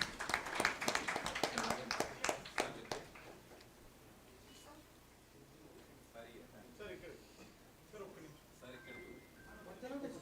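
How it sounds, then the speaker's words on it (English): Audience applause at an education awards event, a burst of clapping for about three seconds that fades out, followed by quieter room sounds and murmuring. "Ladies and gentlemen, can we have a huge round of applause?"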